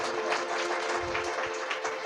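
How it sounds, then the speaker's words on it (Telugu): A congregation claps loudly during a Sunday worship service, a dense, steady wash of many hands throughout with a faint low hum underneath. "గట్టిగా చప్పట్లు కొట్టు."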